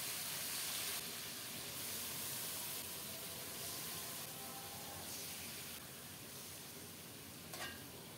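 Pieces of chicken added to hot oil seasoned with cinnamon, cardamom and bay leaf, giving a faint, steady sizzle and hiss in a pan with an occasional soft stir, no talking.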